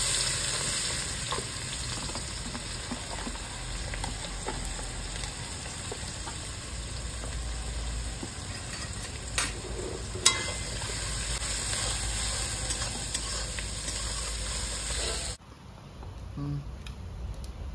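Dried red chillies, nigella seeds and chopped onion spitting in hot oil for a fish roe masala curry, a dense continuous sizzle with a few stirring knocks, fading sharply near the end.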